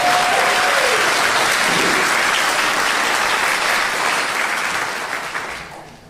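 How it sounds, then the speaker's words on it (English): Sustained applause from a congregation at a Sunday morning church service, dense and steady clapping that holds for several seconds before gradually thinning out toward the end. "Let's give David a round of applause."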